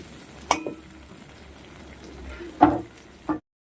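Yardlong beans and green chillies fry quietly in a pan with a soft, faint sizzle, broken by a few sharp utensil clacks before cutting off into silence.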